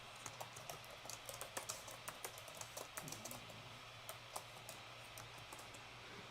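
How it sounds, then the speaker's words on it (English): Computer keyboard typing, a quick run of soft close keystroke clicks at an uneven pace, fairly faint over a steady background hiss with no talking. "I'm going to type."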